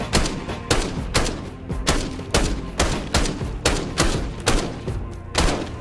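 A rapid, evenly spaced series of loud gunshots hitting a door in Call of Duty, around a dozen in a few seconds, each with a sharp, heavy impact.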